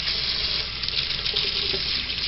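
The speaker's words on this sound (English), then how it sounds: "I'm actually gonna rinse some cold water over them" Cold tap water runs steadily over cooked tomatoes during tomato sauce preparation, a continuous close splashing rush from start to end with no talking.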